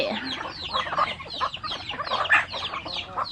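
Free-range village chickens clucking while pecking at rice, several birds nearby with busy, overlapping clucks and short calls.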